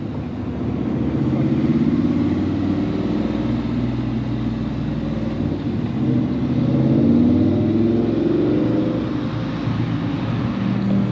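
A Ford Mustang on an autocross track day makes a steady, moderately loud engine drone with gentle rises and falls in pitch across the whole stretch.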